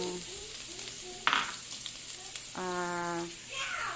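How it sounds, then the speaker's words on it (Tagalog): Garlic and onion sauté in hot oil with a steady close hiss, broken by a brief clatter and a few faint tonal, voice-like sounds. "igigisa na natin yung ating garlic at ating sibuyas"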